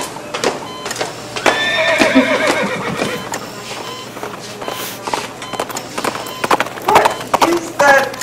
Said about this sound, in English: You got horses loose in here somewhere?